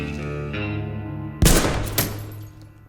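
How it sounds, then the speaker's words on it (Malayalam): Gunfire in a climactic action-comedy film scene: a loud sharp shot followed by a second blast about half a second later, over a steady droning musical score. "ഇതുകൊണ്ട് വെടിവെക്ക്."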